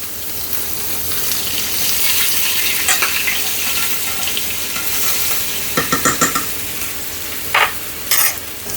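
Salmon fries in butter in a pan, giving a loud, continuous close sizzle with a few sharp clinks and crackles near the end and no voices.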